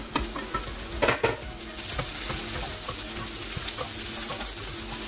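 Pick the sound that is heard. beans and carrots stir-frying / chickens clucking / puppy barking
beans and carrots stir-frying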